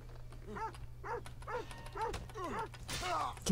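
A dog in the Assassin's Creed Odyssey video game barks repeatedly in a steady series of about seven yelping barks, moderately loud over a low game hum.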